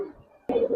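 A pigeon gives a short, close coo that swells in suddenly after a quiet stretch, with only faint low murmuring before it.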